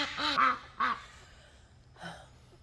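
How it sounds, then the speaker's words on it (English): Ducks quack loudly in a backyard garden, two close, harsh bursts followed by a fainter third call after a pause, with no talking. "Ducks are loud."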